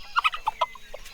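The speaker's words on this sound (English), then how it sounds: "let's check on those chickens again." Close, clear clucking calls from a farmyard fowl, a quick run of bursts with short gaps between, standing alone with no talk over them; the chickens come up during a farm-themed yoga routine for kids.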